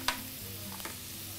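Garlic dropped into a hot pan after onions, a brief clatter followed by a soft steady sizzle, close and short.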